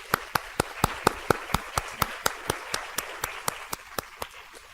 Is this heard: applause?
yes